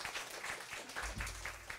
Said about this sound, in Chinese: 那我们就掌声谢谢卡西